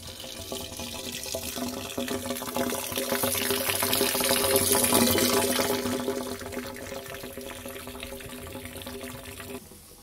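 Water pours steadily into a homemade duck pond and filter, a continuous splashing rush with a faint hum, swelling in the middle, then easing off before stopping near the end.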